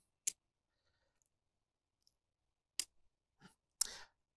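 Victorinox Sportsman Swiss Army knife tools snapping shut: a handful of sharp, crisp clicks spaced apart in near silence, the last one slightly longer with a short scrape.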